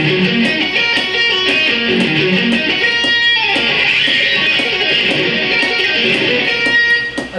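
Slow electric guitar arpeggio triplets, played to a metronome click, with a steady, even run of bright, driven notes that continue alone for several seconds without talking.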